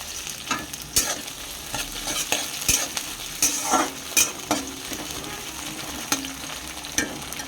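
Chopped onion and tomato being stirred in a hot frying pan, irregular scraping strokes of a utensil over steady sizzling, close and moderately loud with no voices.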